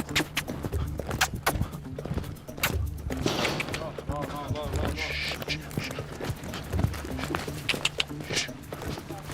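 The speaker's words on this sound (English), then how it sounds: "Just cooling the horse down now, letting it walk" A horse walks at a slow cool-down pace after trotting, its hooves clip-clopping in an irregular rhythm close by, with someone talking over the steps and some outdoor background noise.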